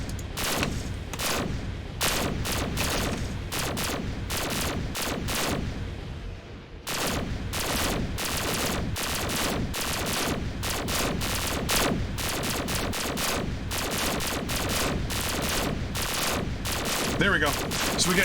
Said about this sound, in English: So we get ballistics now, and we have our lasers going at the same time.